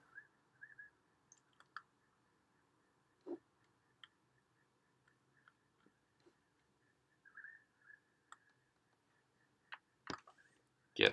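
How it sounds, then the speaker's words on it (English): A computer mouse clicking while working in an admin web interface: sparse, quiet, single clicks scattered at uneven intervals in a near-silent room, with a few sharper clicks near the end. "you can click on configuration again"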